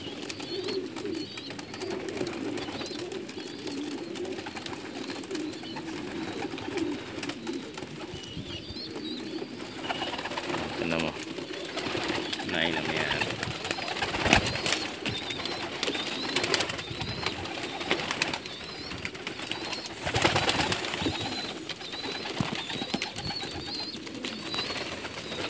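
Pigeons kept in Umluj, Saudi Arabia, coo in soft repeated throaty calls over a steady low background murmur, with occasional rustles and knocks, close by.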